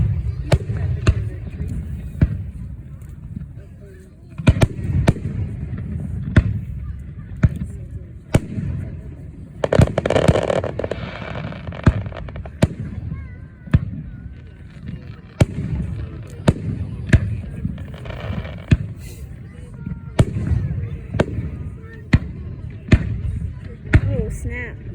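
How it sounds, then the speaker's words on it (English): Fireworks bursting at an outdoor firework show, a long run of sharp booms and crackles at an uneven rhythm, some loud and close, with people talking and reacting between the blasts. "when those fireworks, it looks like it's raining down on us"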